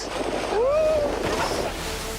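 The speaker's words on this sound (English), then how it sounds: "We're struggling to row at the moment because the waves are so high." High ocean waves surge around a small rowing boat at sea. Broad, washing water and wind noise carry a brief rising whistle-like tone partway through, with no clear speech.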